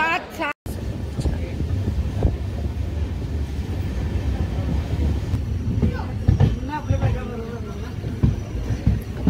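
A train rolls into Kolhapur railway station with a steady low rumble and rattle of carriages, brief wind buffeting on the microphone, and people talking over the noise near the end.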